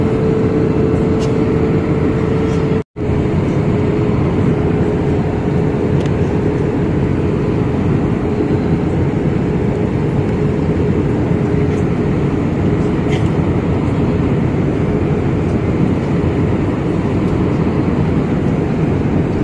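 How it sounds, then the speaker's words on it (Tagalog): An airplane on final descent toward Clark International Airport, heard from inside the cabin as a steady, loud broadband engine and air roar with a faint hum, continuous throughout apart from a momentary dropout. "This is a final descent for landing sa Clark International Airport."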